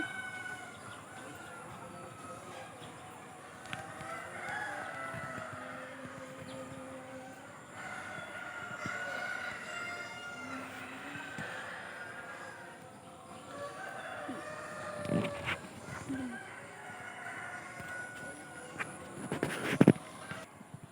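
Chickens at a poultry farm in a wooded hill area, with rooster-like calls scattered through steady outdoor background noise, moderately distant, with a few louder bursts and clatters near the end.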